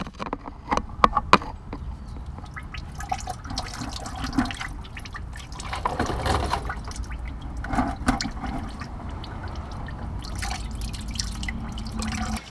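Coolant draining from an open radiator plug on a 2001 Ford F150 into a container below: faint, steady trickling and dripping water with scattered small clicks and splashes, no talking.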